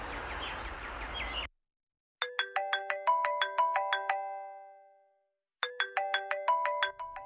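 A mobile phone ringtone plays two bursts of bright, repeating melodic tones separated by a short silence, loud and close, following a brief stretch of background noise.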